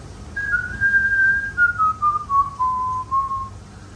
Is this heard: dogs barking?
no